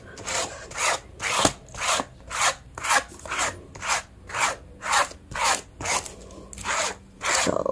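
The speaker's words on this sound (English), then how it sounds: "And then I'll go back in and kind of just scrape off the excess." A card scrapes excess Odicoat sealant off a handmade bag in about a dozen even, rhythmic back-and-forth strokes, each a loud, close, rasping swipe, with no voices.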